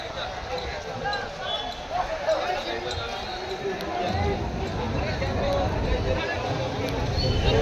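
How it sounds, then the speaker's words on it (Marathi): Crowded goat market in Digras, Maharashtra, a dense babble of many voices and general bustle filling the air, with footsteps and scattered thuds mixed into the steady crowd noise. "बकरीचा भयानक भरला आहे, पूर्ण फुल गर्दी आहे"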